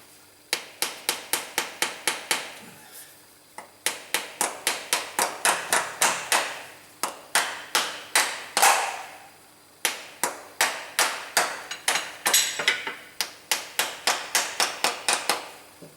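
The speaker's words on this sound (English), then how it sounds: "That's just a little nylon hammer, so it's not going to damage it." Rapid, sharp taps of a small nylon hammer fitting a part during a Hyundai clutch repair, in quick bursts of about ten strikes each, separated by short pauses, close and crisp.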